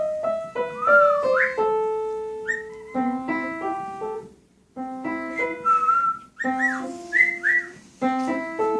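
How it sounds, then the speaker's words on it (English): A cockatiel whistles on its own in a series of varied tuneful phrases, with sliding notes and short pauses between them, close and clear with no talking. "I want to see if he'll start whistling at himself again."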